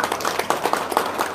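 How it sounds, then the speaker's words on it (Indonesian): An audience at a religious talk applauding, a dense burst of many hands clapping together, loud and close, lasting only briefly. "Tepuk tangan dulu."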